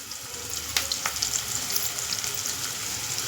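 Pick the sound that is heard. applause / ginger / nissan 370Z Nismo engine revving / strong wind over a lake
ginger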